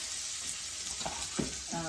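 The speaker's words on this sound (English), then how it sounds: "Using my bamboo spatulas, just kind of toss things around in here." Vegetables stir-frying in avocado oil, tossed with bamboo spatulas: a steady hiss of sizzling with a few soft scrapes and knocks near the end, close and moderately loud.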